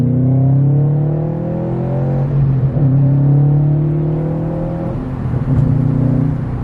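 Aftermarket exhaust on a Subaru WRX STI rumbles low and steady while the car drives, its engine tone rising and falling with throttle and heard close and loud, with no voices over it.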